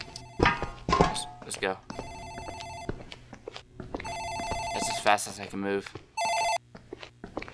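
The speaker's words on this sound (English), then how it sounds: "That's the phone in the office ringing." An office telephone in the game Dark Fracture rings in repeated bursts, its bright electronic trill returning several times amid thuds and footsteps while someone talks over it.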